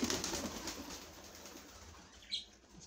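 White lakka fancy pigeons released from a loft, wings flapping in a busy flurry close by for the first couple of seconds, then thinning out, with one more brief burst of wingbeats near the end.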